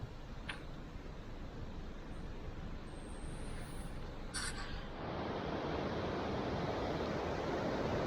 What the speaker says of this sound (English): This is the spillway off my dam, which was absolutely full.